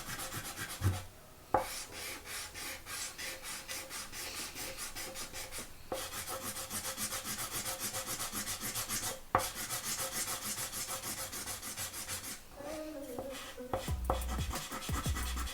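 Pen drawing a heart on fabric makes a continuous faint scratchy rubbing, close and quiet, with a few small taps along the way and no voices.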